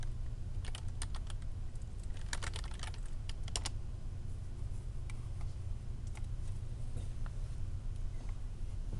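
Typing on a computer keyboard at a Windows command line window, a run of close, crisp key clicks in quick irregular bursts over a steady low hum, then sparser scattered taps.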